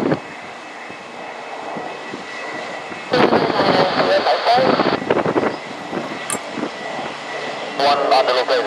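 Bombardier Challenger 300 business jet taxiing at an airport, a steady engine whine that swells louder midway, with radio chatter and voices breaking in over it.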